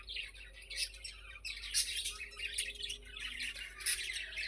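Repeated raspy squawks and chirps from a bird, fairly close, against a low background hum.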